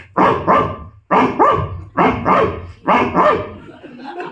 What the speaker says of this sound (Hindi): 2-4-5 कुत्ते और आ गए, वो भी भूखने लगे